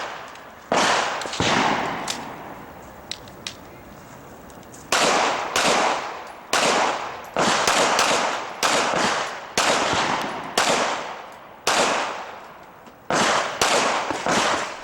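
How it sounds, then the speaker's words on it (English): Pistols fire at an IDPA shooting match at an outdoor wildlife club range, loud cracking shots in quick pairs and strings with short pauses, echoing sharply and close by. "A few extra shots were squeezed in"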